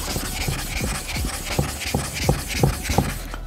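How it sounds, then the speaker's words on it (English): Naniwa Hibiki 6000 grit whetstone being flattened, a close wet gritty rubbing that rasps back and forth in quick repeated strokes, steady and fairly loud throughout. "So this is flattening process to make this stone very flat."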